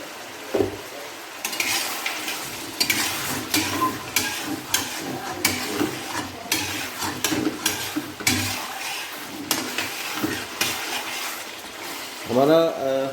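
Beef karahi, Peshawari Shinwari style, cooks in a pan with steady sizzling and frying, broken up by repeated stirring and clinks of utensils against metal, loud and close, with no talking.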